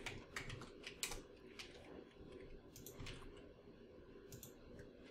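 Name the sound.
typing a name on a computer keyboard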